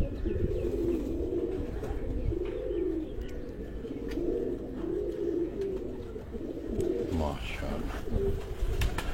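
French pigeons coo in a steady, rolling series of low throaty calls, fairly close, with a few brief sharper sounds near the end.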